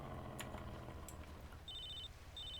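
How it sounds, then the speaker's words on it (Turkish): A phone rings in the video game GTA San Andreas, two short electronic trill bursts heard over continuous game background sound and music. "telefon çalıyor"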